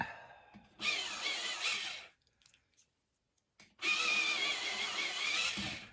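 Pencils sharpened in a sharpener, two loud grinding bursts of about a second and a half each, divided by a short quiet pause, with no talk.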